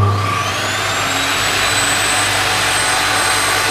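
A Modern M608 table saw runs with no load, giving a steady, loud motor whine with a constant high pitch and hum that stays level throughout, with no speech.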